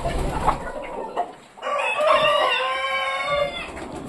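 Hens in a coop on a farm, a loud drawn-out crowing call rising over a close bed of clucking and rustling from the flock.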